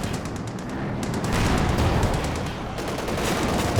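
Tank and gun fire in the video game Company of Heroes 2, including a Panzer IV firing HEAT shells at a Cromwell: dense, continuous loud bursts and rumbling blasts with no talking.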